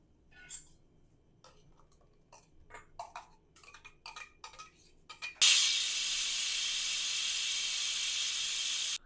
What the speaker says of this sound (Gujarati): આપણે કુકરની એક વિસલ વાગી ગઈ છે